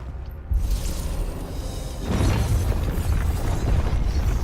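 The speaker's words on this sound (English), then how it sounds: "Oh, bombs, okay." Bomb enemies in the video game Final Fantasy XVI explode with deep booming bursts, one sudden thump followed by a heavier rumbling blast, amid ongoing battle sound effects.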